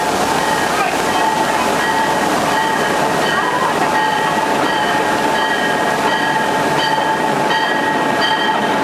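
Special trains carrying fans to the 1962 Grey Cup final in Toronto, a steady rolling rumble and clatter of railcars with squealing tonal whines, loud and continuous, with a voice talking over it.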